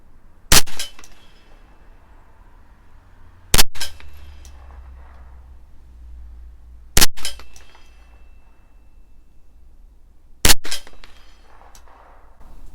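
Shots from a Derya RIA TM-22 rifle at an outdoor range, four sharp loud cracks spaced about three seconds apart, each with a brief echoing tail, nothing else between them.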